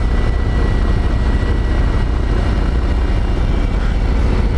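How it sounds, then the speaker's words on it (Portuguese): A 2020 Harley-Davidson Ultra Limited with a Milwaukee-Eight 114 engine, running with a steady, loud, close low rumble that holds continuously without a break, with no voices present. "mesmo com o Milwaukee 8 114, o motor dela não perdeu a folclórica batida"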